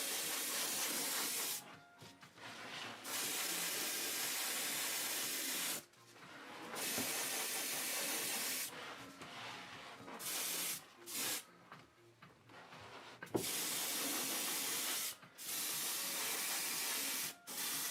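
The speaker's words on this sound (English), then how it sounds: "So I just get some of the matte varnish and" Bursts of fine spray hiss from a matte varnish coat being applied, quiet and close, in several separate passes with short silent gaps between them.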